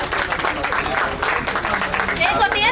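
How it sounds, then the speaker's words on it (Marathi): Audience clapping at a village school annual gathering, rapid applause from many hands running under a voice speaking over a loudspeaker, fairly near and lively. "सर्वांनी टाळ्या वाजवा."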